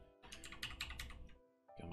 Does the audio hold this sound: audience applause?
no